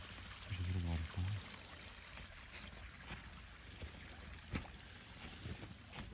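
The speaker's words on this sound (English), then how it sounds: "There's a little waterfall." A small woodland waterfall on a foggy early fall walk makes a steady, soft rush of flowing water, with a brief louder splash near the start and faint handling noises over it.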